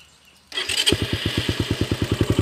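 A Honda TMX125 motorcycle engine converted to 200cc fires up after a short quiet pause, then settles into a close, steady, evenly pulsing idle with sharp regular exhaust beats.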